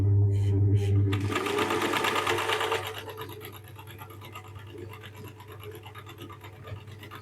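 Singer 319k sewing machine stitching a pattern from a cam, a rapid mechanical whir that is loudest at first and then settles into a quieter steady hum, with faint talking underneath.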